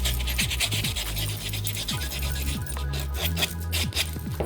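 A dip-powder fingernail is smoothed with a nail file in a steady run of quick, close back-and-forth rasping strokes.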